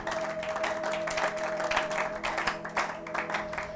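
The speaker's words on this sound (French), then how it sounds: "Acclamez pour la gloire de notre Dieu" A church congregation claps and applauds in a sustained, dense wash of clapping, moderately loud and steady throughout, with a faint held tone beneath.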